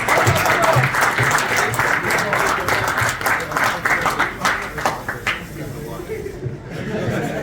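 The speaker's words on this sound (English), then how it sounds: "Give him another round of applause." A room at a football club's end-of-season presentation dinner applauds a player, dense clapping mixed with voices that gradually thins and tapers toward the end.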